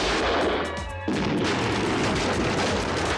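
Gunfire from an action movie scene roars loud and dense, with a continuous barrage of shots and booms filling the soundscape and a brief dip before the firing resumes.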